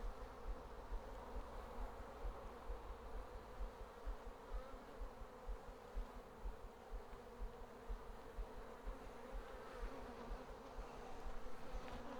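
Honey bees buzz steadily as they draw out and work comb inside a homestead beehive, a dense, continuous droning hum from many insects at close range with no voices.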